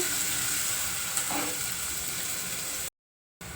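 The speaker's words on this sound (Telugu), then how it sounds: "మనం వేసుకున్న ఈ ఆనియన్స్ బాగా ఆయిల్లో ఫ్రై అయిపోవాలి" Onions fry in hot oil in a pan, a steady close crackling sizzle that continues for about three seconds before a brief gap of silence, with no talking.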